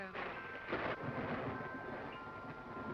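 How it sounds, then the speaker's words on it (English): Low, distant rumble of thunder rolling on for a few seconds, with a slightly louder swell early on, faint and with no voices. "Possibly those thunders of our dear Shelley, heaven's applause for England's greatest poet"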